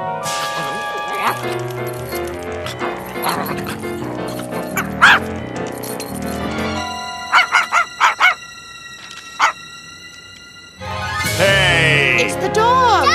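A dog in an animated family film yips and barks in a short burst of sharp calls over music, with excited voices talking around it.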